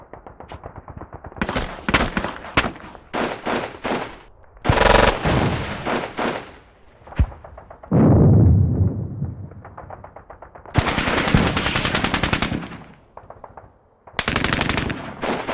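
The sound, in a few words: mortar and gunfire in Squad Battles Eagles Strike video game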